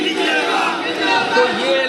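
Large crowd at a protest in Lucknow over Khamenei's death, a dense continuous roar of many voices shouting and chanting together, close and loud throughout.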